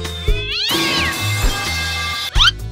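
Banana Cat in a game meows loudly several times, with rising and falling wails close up over a steady musical backdrop.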